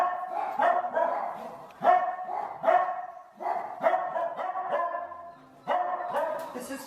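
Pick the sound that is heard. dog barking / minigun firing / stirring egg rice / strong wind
dog barking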